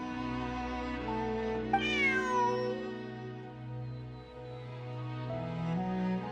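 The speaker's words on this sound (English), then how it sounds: "Bonnie is Pierre's cat" A cat meows once in the video game Genshin Impact, a clear drawn-out falling meow over a steady sustained game music bed, with no talking.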